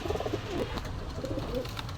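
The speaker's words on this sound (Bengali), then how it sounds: "এক পেয়ার টেডি কবুতর, খুব সুন্দর কোয়ালিটির কবুতর" A pair of teddy pigeons coo in repeated soft, rolling phrases close by, several coos running one after another over a faint background hum.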